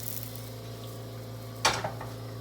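Bread fries while pressed flat in a pan, a soft steady sizzle with a low hum beneath, broken by one sharp clatter of a pot or utensil and a smaller knock after it.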